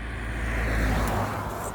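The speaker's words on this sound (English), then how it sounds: "As you can hear, just traffic, unfortunately." Road traffic rolls past as a continuous broad roar of car noise, steady and fairly loud across a short moment, with no voices.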